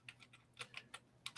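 Light, quick taps on a computer keyboard, a rapid uneven run of soft clicks heard faintly and close, with no talk over them.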